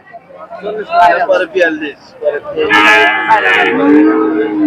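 A cow at a busy village cattle market in Kalampur lows in a long, loud moo close by, with people talking just before it amid the market's babble.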